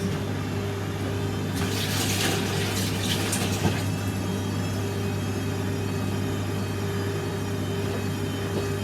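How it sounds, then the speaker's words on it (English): Tap water runs steadily into a sink while hands are washed, a continuous close splashing rush with brief louder spatters early on, all beneath a constant low background hum. "I'm just going to quickly wash my hands."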